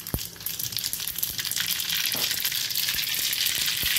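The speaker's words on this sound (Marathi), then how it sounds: "तडकेसाठी तेल ठेवलं आहे, त्यामध्ये जिरे मोहरी टाकायचे" Cumin and mustard seeds sizzle in hot oil for a tempering, giving a steady hiss with a few sharp pops and crackles.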